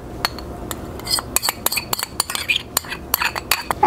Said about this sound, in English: now I'm going to add my dressing to my cabbage and give it a mix.